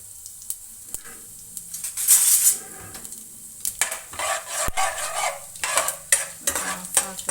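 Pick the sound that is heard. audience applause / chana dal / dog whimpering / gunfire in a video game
chana dal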